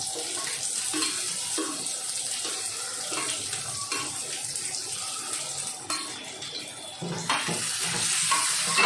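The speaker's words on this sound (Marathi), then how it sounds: "कांदा परतून घेते मी कांद्याचे चांगलं परतून घ्यायचा" Onion sautéing in oil in a pan while being stirred, a continuous close sizzle with scraping stir sounds throughout and no talking.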